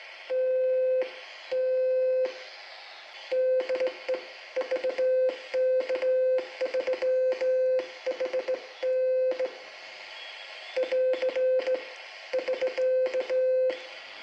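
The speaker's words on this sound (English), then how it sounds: "There's a little bit of a click in the speaker going from transmit to receive and back again." A scratchbuilt dual-band, two-channel QRP CW transceiver sends Morse keying as a steady mid-pitched sidetone in short and long on-off bursts, with faint switching clicks as it flips between transmit and receive; no talking.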